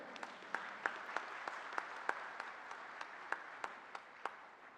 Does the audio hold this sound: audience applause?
yes